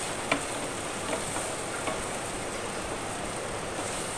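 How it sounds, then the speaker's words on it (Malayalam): Steady sizzle of finely chopped tomato being sautéed in a pan, with a few faint spoon clicks against the pan over a continuous frying hiss. "ഒരു തക്കാളി ഇതുപോലെ ചെറുതായിട്ട് അരിഞ്ഞ് ഒന്നിട്ട് കൊടുത്ത് ഒന്ന് വഴറ്റിയെടുക്കാം"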